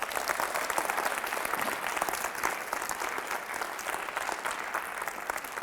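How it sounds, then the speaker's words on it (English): Steady audience applause at a leadership speech at Fossil Ridge, dense and sustained throughout, filling the room with continuous clapping and no voices over it. "Everyone give a huge round of applause to Berkeley."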